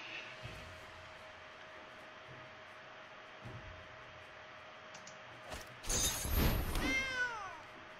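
Cats meowing in the Magic: The Gathering Arena card game, a short burst of rising and falling meows near the end over a quiet, hissy game background.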